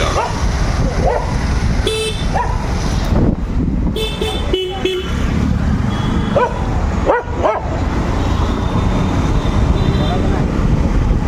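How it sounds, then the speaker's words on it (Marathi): On a street, a dog barks several times in short bursts while chasing a delivery scooter, mixed with passing traffic, a car horn toot and the steady hum of riding. "गेला कुत्रा मागायला लागला."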